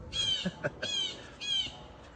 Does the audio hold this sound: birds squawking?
yes